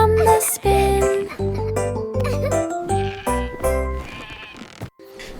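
Sheep bleat repeatedly in a cheerful children's nursery rhyme about a farm animal band, short wavering baa calls punching in rhythmically over bright music.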